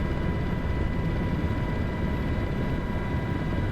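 Steady video-game helicopter engine drone with a dense low rumble and whine, constant and loud throughout, no voices.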